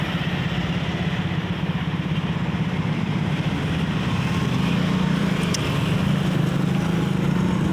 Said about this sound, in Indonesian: Bus rombongan bus Ikdam.